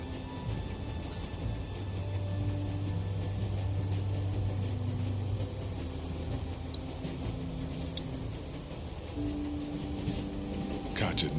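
A train runs steadily in The Walking Dead game, a continuous low rumble and rolling drone with faint clanks, and a sharp noise at the very end.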